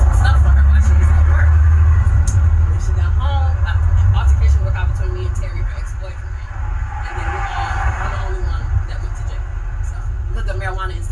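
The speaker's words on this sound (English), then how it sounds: "do you hear the cars and everything in the background better than you can hear her?" Constant rumbling car traffic passes on a road in the background, loud and steady, with people talking over it throughout.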